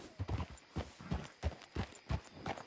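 Horse hooves clip-clop in Red Dead Redemption 2 while a rider sits bound on horseback near Saint Denis, a steady run of distinct close hoof strikes about every third of a second, loud and alone.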